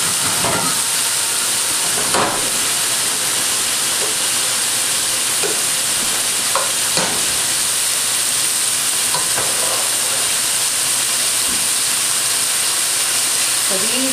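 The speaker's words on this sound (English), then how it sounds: "I'm going to add garlic first. And let the garlic kind of get in there and simmer up a little bit." Garlic sizzling in hot oil in a pan for garlic noodles, a steady loud frying hiss throughout with occasional stirring clinks and scrapes.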